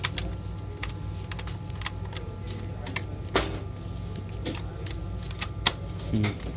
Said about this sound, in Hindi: कीबोर्ड देखो चल रहा है, प्रेस करो।